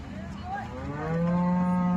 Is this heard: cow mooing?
yes